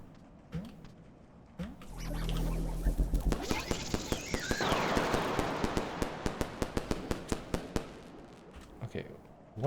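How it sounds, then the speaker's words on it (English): Firecracker going off in the video game Animal Well: a sputtering fizz builds, then a rapid string of sharp pops and crackles repeats in an even rhythm for several seconds, moderately loud with no talk. "Okay, firecracker."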